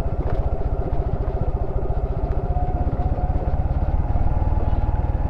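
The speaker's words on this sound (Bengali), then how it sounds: "আর ফার্স্ট গিয়ার আমি দিয়ে রাখছি, ইঞ্জিন ব্রেকে আছে।" A vehicle engine held in first gear with engine braking on a steep descent in Bandarban, a steady close rumbling drone with rapid pulsing throb, continuous and fairly loud.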